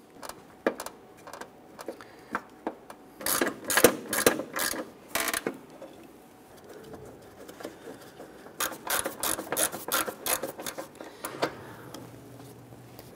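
Bolts on a 1997-2006 Jeep Wrangler grille are worked down with a ratchet, producing bursts of rapid clicking and metallic rubbing in clusters separated by quiet pauses, close by.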